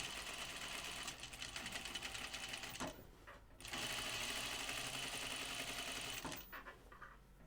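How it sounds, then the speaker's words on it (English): A sewing machine staystitches fabric a quarter inch from the edge while sewing a Fairfield button-up shirt, a rapid mechanical whir in two long runs with a short pause between. "let's stay stitch this"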